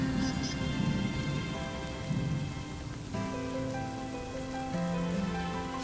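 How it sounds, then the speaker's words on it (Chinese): Rain falling steadily outdoors, a soft continuous patter on surfaces with a low distant rumble like thunder beneath, quiet and even throughout with no talking. "下雨了"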